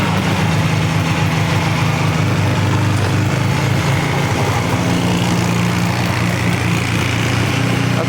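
Polaris 400cc two-stroke ATV engine running hard, a loud, steady, buzzing roar that holds without break for the whole stretch, close by with no talk over it.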